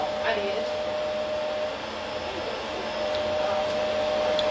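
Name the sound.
blow dryer built into a hat running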